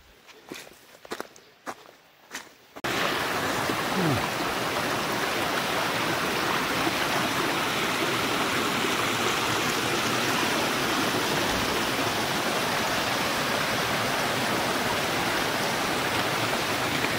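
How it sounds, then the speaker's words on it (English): A small waterfall on a New Zealand hiking trail rushes in a steady, loud wash of water, preceded by a few footsteps on the trail before the roar takes over. "So it's, I guess it's a little waterfall day today."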